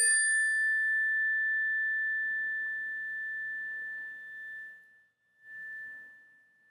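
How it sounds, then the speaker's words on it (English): A single meditation bell struck once in a quiet room, its clear pure tone ringing out and slowly fading into a long echoing decay that lingers for several seconds, with a faint room hush beneath. "I'm going to ring this bell"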